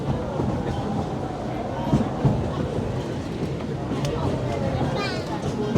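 Disneyland railroad train running along the rails through a jungle-themed route, a continuous rumbling roll with faint clicks and a brief metallic squeal near the end, steady and close throughout.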